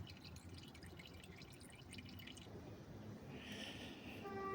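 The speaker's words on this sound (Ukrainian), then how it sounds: "Про всяк випадок олива досі тече." Engine oil drips faintly from a 2024 Honda CR-V 2.0 during an oil change, with soft, irregular drops over quiet background hiss.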